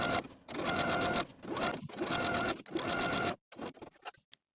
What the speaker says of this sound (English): we're going to sew basting stitches using the longest stitch on your machine